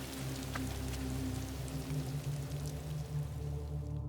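Heavy rain falls in a dense, steady wash of drops and pattering, loud and continuous throughout with no pauses.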